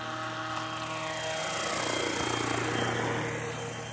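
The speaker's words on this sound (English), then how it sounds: "Oh, Mr. Tarek, please control your helicopter." A helicopter in flight gives a steady, loud rotor and engine roar that swells toward the middle and then eases off, with no voices.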